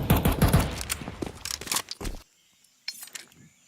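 Rapid pistol fire from a USP in Counter-Strike, a dense burst of sharp, closely spaced shots over the first two seconds, then near silence broken by a faint later pop and light clatter.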